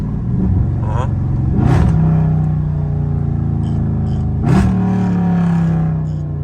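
A Dodge Charger Scat Pack doing donuts in the rain, its engine revving and rumbling in surges up close, with people talking over it.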